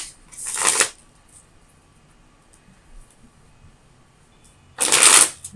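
Tarot cards are riffled in two short, crisp bursts of shuffling with a quiet pause between, close and clear with no talk.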